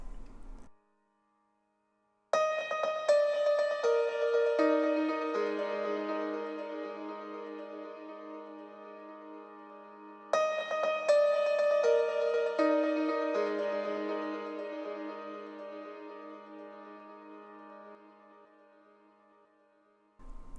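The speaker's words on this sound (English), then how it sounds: "So here's the sound of that delay." Piano chords are run through a Waves SuperTap 2 delay, with two sustained phrases whose notes echo and smear into long, fading tails, close and clean with no voices.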